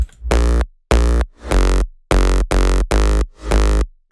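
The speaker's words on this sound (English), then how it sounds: "And then the bass line is just this." A hardstyle synth bass line with reverb opened into the gaps plays alone in loud, punchy, sustained bursts, about seven rhythmic notes with short breaks between them.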